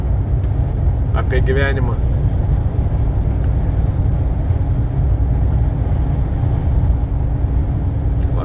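A car drives along a road in Scandinavia, a steady, loud low engine rumble and road roar filling the cabin, with a voice speaking briefly over it.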